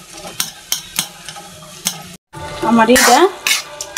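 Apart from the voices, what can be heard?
mashing and mixing boiled taro stems for bharta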